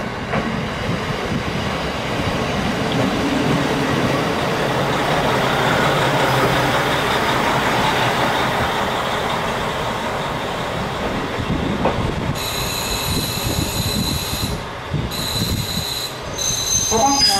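A KiHa 40 diesel train on the Nemuro Main Line rolls into Furano Station with a steady rumble, clattering wheels and squealing brakes, then high-pitched tones sound near the end.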